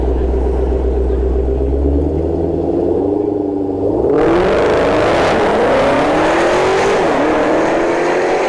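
Dodge Hellcat cars launch at a drag strip, engines rumbling at idle before a sudden loud burst of revving and acceleration into a roaring, rising whine as they pull away.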